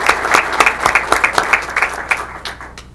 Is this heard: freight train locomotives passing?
no